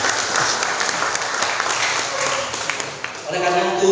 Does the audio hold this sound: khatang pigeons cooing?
no